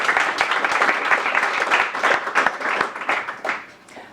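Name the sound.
audience applause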